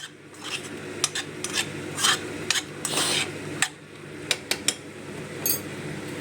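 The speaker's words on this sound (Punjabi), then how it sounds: "ਮਸ਼ਰੂਮ ਵੀ ਬਹੁਤ ਵਧੀਆ ਫਰਾਈ ਹੋ ਰਹੀ ਹੈ" Mushrooms frying for a masala mushroom dish, stirred with a utensil in a pan: repeated close scraping and rasping strokes with light clicks over a faint sizzle.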